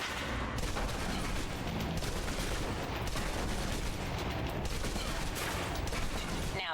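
Submachine gun in the video game Alpha Protocol emptying a full magazine at a practice range: a dense, continuous burst of rapid shots with clattering mechanical detail, loud and unbroken for several seconds.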